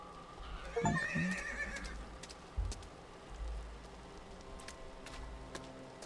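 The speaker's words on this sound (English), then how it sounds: "we can pet the horse, I guess" A horse whinnies once, a short close neigh near the start, followed by soft hoof shuffles and low thumps over a quiet indoor background with faint scattered ticks.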